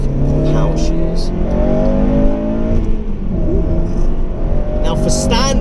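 A Honda Civic Type R engine pulls hard under acceleration, a loud sustained drone heard from inside the car with a brief shift-like dip midway, while a person talks over it.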